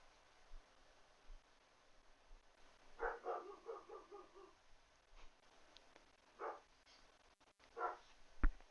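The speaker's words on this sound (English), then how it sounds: "Sorry if you can hear my dog barking now." A dog barks in short bursts somewhere in the distance, faint and muffled, with quiet pauses between the volleys.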